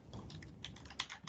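Keyboard typing picked up over a phone call: a quick, uneven patter of soft key clicks lasting about a second, thin and line-muffled, with no voice.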